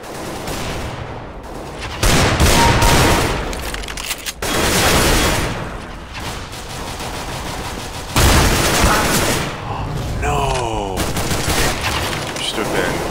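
Shotgun and Desert Eagle fire in Counter-Strike: Global Offensive: loud, close bursts of shots hit repeatedly, with heavy blasts near the start, middle and later, amid continuous game noise.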